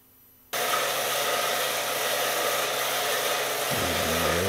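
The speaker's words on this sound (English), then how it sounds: "this starts off on the bandsaw to cut off a hook of steel" A bandsaw cutting a piece of steel in turbo mode starts abruptly and then runs at a steady, loud, dense whir close by. Near the end a low pitch shifts as the blade loads up. No voices.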